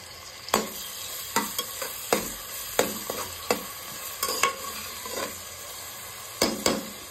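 Sliced onions frying in a pan for green peas pulao, stirred with a spatula: about a dozen sharp scraping strokes at irregular intervals over a steady, moderate sizzle, close by with no talking.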